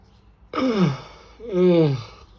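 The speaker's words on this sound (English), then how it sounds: "Yawning." A person gives two drawn-out, breathy yawning exhalations, each with a falling voiced moan, close up against a quiet room.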